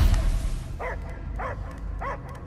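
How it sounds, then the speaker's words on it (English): A dog in the Guardians of the Galaxy video game gives three evenly spaced barks, fairly close and clear over a low background rumble of game ambience. "I hear only barking"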